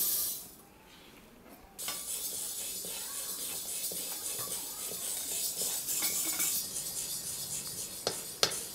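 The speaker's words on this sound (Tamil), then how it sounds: "அடுத்தது வெந்தயம் வறுத்து எடுத்துக்கலாம்." Fenugreek seeds dry-roast in a pan for a Tamil kulambu masala, a soft steady hiss with scattered light scrapes and clinks of a spoon, a sharper clink near the end.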